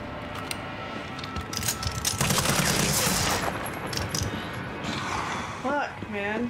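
Rapid bursts of gunfire in the survival-horror game Resident Evil 3, a dense fusillade swelling midway, with a voice talking over and between the shots.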